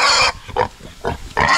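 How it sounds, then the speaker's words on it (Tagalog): A pig being slaughtered for lechon in the Philippines gives loud, harsh squeals in four repeated bursts with short gaps between them, close and dominant. "Nagkakatay na naman ng baboy"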